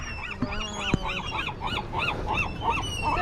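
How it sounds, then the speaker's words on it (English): Honking birds near a crabbing dock on a windy winter day, heard as a steady run of goose-like honks, about two to three per second, moderately close, against a background of wind and water. "Oh, now there's some happy birds."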